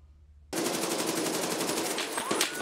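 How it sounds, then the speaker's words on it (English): Machine gun fire in the video game Escape From Tarkov starts abruptly after half a second as a dense, loud, rapid burst that continues to the end of the clip. "Why is he shooting me through this, bro?"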